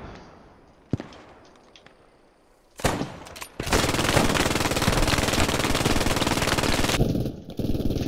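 Sustained machine gun fire in a World War II style online shooter, starting after a few sharp single shots and scattered cracks, then a loud continuous burst rattling on for several seconds near the listener.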